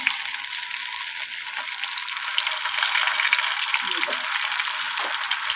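Fish pieces fry in hot oil and are turned slowly, giving a steady close sizzle throughout with a few soft scraping touches near the end.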